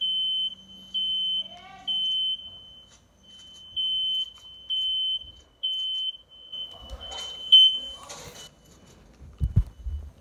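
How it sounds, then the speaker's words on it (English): A smoke detector fire alarm beeps in a regular pattern of sustained high tones with short gaps, fairly loud and close, with game sounds and a voice rising near the end. "The fire alarm went off the second time today."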